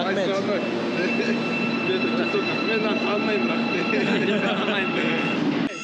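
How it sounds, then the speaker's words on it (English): A metro train rumbles and screeches through a loud subway station in Kazakhstan, a dense wall of rolling rail noise with a high steady whine, close and continuous, with indistinct voices mixed in. "It's very loud, but it's a very nice train. It looks like the metro of the New York subway system."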